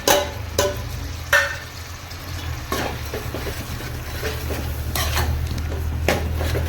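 Spices and seasonings for a green gram khichdi sizzle gently in a pan over a low steady hum, punctuated by a few sharp clinks and scrapes of a utensil stirring against the metal.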